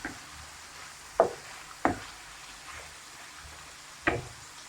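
A wooden spoon stirs tomato concentrate in a pan, giving four spaced, close scraping knocks over a faint low sizzle.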